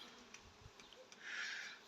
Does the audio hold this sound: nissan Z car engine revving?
no